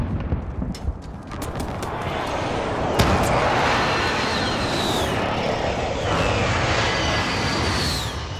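A precision airstrike in a video game: aircraft roar overhead through a steady, dense wash of sound, with several sharp gunfire or explosion cracks early and the jet sweeping past loudly.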